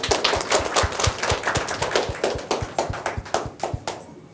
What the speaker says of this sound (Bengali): ওনার জন্য একটা জোরে করতালি চাই।